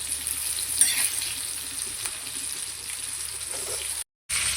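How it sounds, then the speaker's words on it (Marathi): Coated rohu fish pieces frying in hot oil in a pan, giving a continuous soft sizzle and bubbling at a moderate level with faint handling noises and a brief gap near the end. "आणि असे तेलामध्ये सोडणार आहोत मी सगळे असे मासे टाकून घेतले आहे आपण आता त्याला पलटी करून घेऊया"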